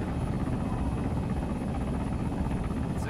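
A Mi-28N attack helicopter in ARMA 3 flies with a steady, loud, continuous rotor and engine roar that holds constant throughout.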